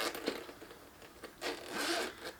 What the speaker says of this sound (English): You have a zipper on either side.